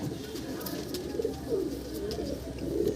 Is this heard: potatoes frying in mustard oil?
no